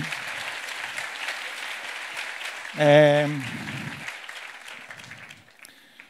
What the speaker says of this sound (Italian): grazie, molte grazie, un applauso formidabile.